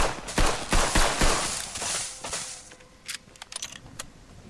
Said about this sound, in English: I hear a turret popping up and shooting at me, but I don't see one.